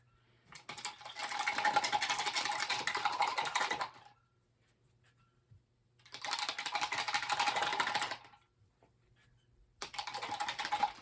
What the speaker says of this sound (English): I'm just getting the brush nice and clean